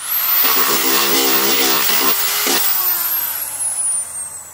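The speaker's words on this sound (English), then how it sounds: "Trying to get my sander. I always like cleaning up these edges." Power sander smoothing the edges of a wooden shelf, running loud and steady for several seconds with a whining tone, then spinning down toward the end.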